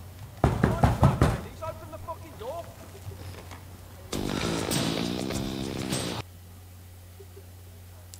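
Knocking at a door: a burst of several sharp, fast knocks early on, followed by talking and background music.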